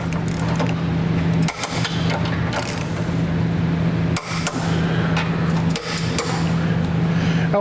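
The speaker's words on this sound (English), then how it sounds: "Now we're going to go ahead and torque them down to the specifications listed in our instructions" Trailer hitch bolts on a 2014 Dodge are torqued down with a wrench, sharp metallic clicks and clacks repeating irregularly over a steady low motor hum nearby.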